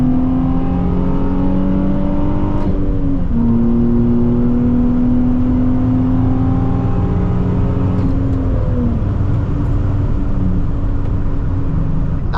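A Nissan 350Z drives along an open road, its engine droning loud and close as it accelerates through rising pitch, with one shift around the middle and steady road rumble beneath, no voices.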